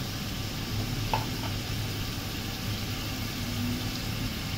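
Mutton liver fries in a pan with a soft, steady sizzle and occasional faint crackles over a low continuous hum, with no talking.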